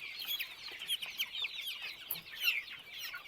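Young broiler chickens cluck and chirp in a busy, overlapping chorus, many birds calling at once close by in a steady stream of short, bright notes.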